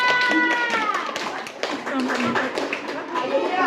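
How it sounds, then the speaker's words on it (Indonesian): A classroom audience claps for Mr. Duta, with brisk, uneven claps mixed with lively voices and children's chatter close by. "Beri tepuk tangan yang meriah untuk Bapak Duta."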